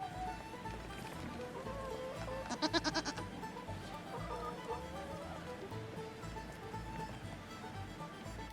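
Goats on a damp farm, with a short, quavering bleat rising clearly above a steady outdoor background of low rustle and murmur, and a few softer animal sounds scattered across the scene.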